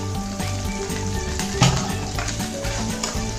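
Raw plantains fry in hot oil with curry leaves in a pan. The oil sizzles loudly and steadily, with light stirring clatter and one brief sharp knock partway through.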